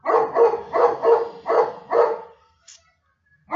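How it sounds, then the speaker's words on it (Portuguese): A pet dog barks indoors in a quick series of about six loud, close barks in an uneven rhythm, followed by near silence and a brief faint yip. "Minha cachorra está concordando comigo."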